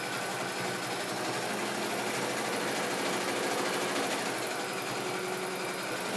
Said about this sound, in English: So it's just much easier to do the sewing machine.